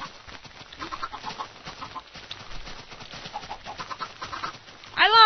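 Chickens and chicks cluck in AdventureCraft, a blocky video game, with steady repeated clucking and peeping across the scene and a loud, rising squawk right at the end.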